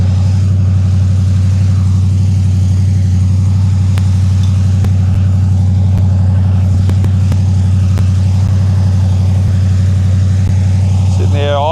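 A loud, steady off-road vehicle engine idles close by while a winch rope is run, a deep constant rumble that never changes pitch, with faint clicks and a brief squeal near the end.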